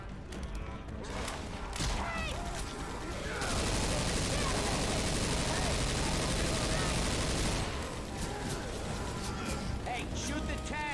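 Gunfire at the Tank in Left 4 Dead 2: rapid, overlapping shots from several guns in a sustained barrage, loudest in the middle, with a voice talking over the shooting.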